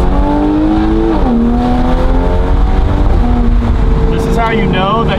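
Toyota Supra engine revving and accelerating from inside the car, a loud steady drone rising and shifting in pitch through gear changes, with a voice speaking over it.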